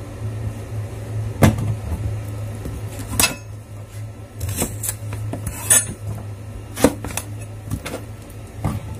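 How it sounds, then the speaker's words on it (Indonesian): Kitchen knife slicing a washed eggplant in half, with a few sharp taps and clicks of the blade against a cutting board over a steady low hum, close by with no talk. "Saya mau potong jadi dua."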